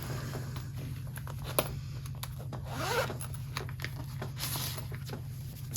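A zipper on a veg tan leather planner is drawn open, a close, raspy zipping texture with a few soft rubs and taps against the leather across several seconds.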